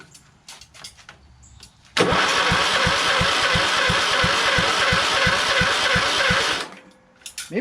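A Kohler Courage engine on a Craftsman LT2000 lawn tractor cranks steadily for about five seconds with a fast, even starter rhythm, loud and close, and never catches before it stops.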